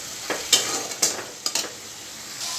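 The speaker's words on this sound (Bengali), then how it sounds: "এবারে ভালো করে কষাবো যতক্ষণ না শুকো" Ginger, garlic and chopped tomato masala frying in a pan, a soft steady sizzle broken by a few sharp scraping stirs near the start and middle, close and fairly quiet with no talk.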